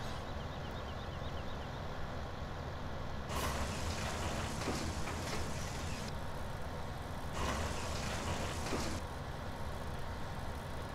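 Truck in Farming Simulator 17 driving up to a silo to unload, a steady low engine drone throughout with two louder broadband bursts like air brake hiss, no talking.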